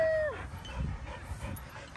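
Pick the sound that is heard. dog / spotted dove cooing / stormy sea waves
dog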